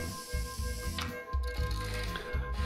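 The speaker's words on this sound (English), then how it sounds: "They're going to 3D print a new head" A 3D printer in Two Point Hospital whirs and clicks as it prints a new head, with a ratcheting mechanical rhythm of repeated gear-like pulses and short hisses.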